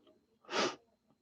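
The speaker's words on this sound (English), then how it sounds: "Sorry, I'm sniffling." A single short, breathy sniff through the nose, close and fairly quiet, with near silence around it.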